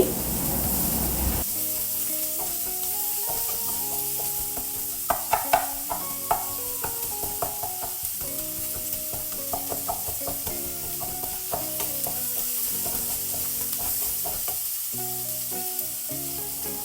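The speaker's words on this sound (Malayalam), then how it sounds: "എന്നിട്ട് നല്ലോണം ഇളക്കി നല്ലോണം ഒന്ന് റോസ്റ്റ് ചെയ്തെടുക്കുക" Prawns and small onions roasting in a pan while being stirred, with a loud continuous sizzle, scattered utensil scrapes and taps, and faint background music.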